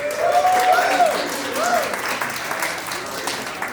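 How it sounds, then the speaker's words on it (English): Applause from an awards-ceremony audience fills the room, loud at first and then thinning a little, with a voice and some cheering heard over it. "So can we give a round of applause to NAVC?"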